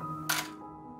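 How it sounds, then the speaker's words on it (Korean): A film camera shutter fires once, giving a single quick, soft mechanical click in an otherwise quiet, low hum. "지금 이 앵글 이야 할 때 누르는 셔터"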